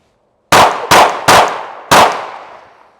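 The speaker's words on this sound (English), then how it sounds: "you're gonna draw and fire 3 rounds to the chest, then 1 in the head, all in 5 seconds" Four loud close pistol shots from a small Baby Glock during a timed drill: three quick rounds in a tight rhythm, then a short pause before a fourth, each leaving a ringing, decaying echo.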